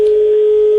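A telephone tone sounds during a prank call, one steady sustained beep lasting under a second, loud and alone.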